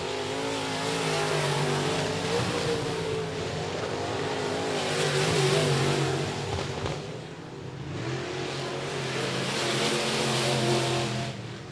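Race cars on the final lap at I-37 Speedway, engines roaring continuously and loudly as the pack sweeps past, pitch rising and falling with passes and revving, no voices.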